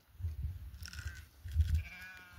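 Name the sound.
sheep bleating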